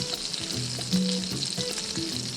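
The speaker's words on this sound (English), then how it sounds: "As you can see, the butter is popping." Trout fillets laid into very hot popping butter, a close, continuous crackling fry with small spits and pops throughout.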